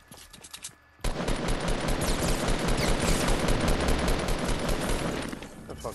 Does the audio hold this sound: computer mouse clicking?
no